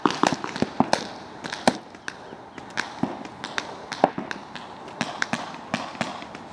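Rapid video-game gunfire crackles in quick irregular bursts, sharp pops scattered densely across the whole stretch over a steady background hiss, with no voices heard.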